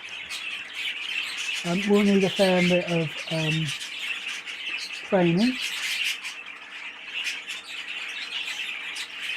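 A pet budgie squawks repeatedly in its cage, loud and close, with harsh chirping calls in bursts, then one more squawk, while someone talks over the steady background chatter of other birds.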